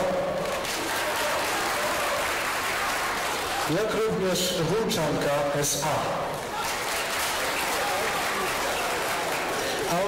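Audience applause at a lookalike stage show in Opatów, a steady roar of clapping from a large crowd running throughout while an announcer speaks over it into a microphone.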